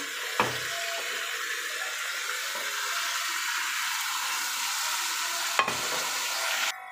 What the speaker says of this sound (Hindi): थोड़ा सा पानी इसके अंदर डाल के ना